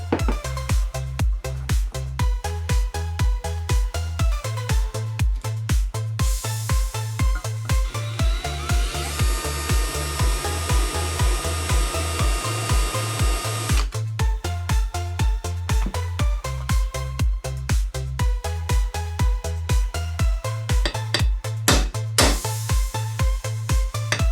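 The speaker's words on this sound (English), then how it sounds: "I'm gonna drill through the saw blade like a lightsaber in hot butter" Power drill boring through a tin-coated saw blade, a steady whining grind that swells in the middle, partly buried under loud rhythmic music.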